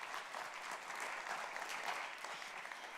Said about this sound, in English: give you guys a round of applause,